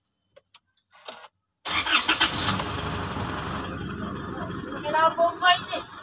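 A 2016 Isuzu mu-X diesel SUV is started by push button: a few faint clicks, then the engine cranks and catches abruptly into a loud, rough idle close by, with people talking over it.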